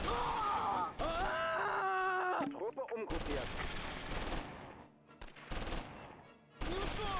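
Machine gun fire in the World War II strategy game Close Combat 3, dense continuous bursts of rattling shots mixed with battlefield groans and cries, loud and near, with only short breaks between volleys.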